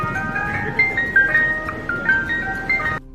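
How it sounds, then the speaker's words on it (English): A toy gadget plays a tinny ice cream truck jingle, a looping electronic melody of bright repeating notes that runs steadily for about three seconds before cutting off abruptly, with no talking over it. "He says this one makes the sound of an ice cream truck."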